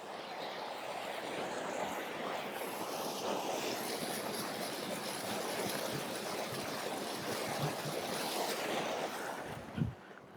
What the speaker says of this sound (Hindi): तो ये एकदम फ्रेश पानी आ रहा है,